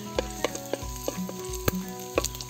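Ginger pieces hit hot oil in a pan while pata is being cooked for kadyos kamansi, giving a steady sizzle punctuated by a few sharp clicks and clatters, with no talking.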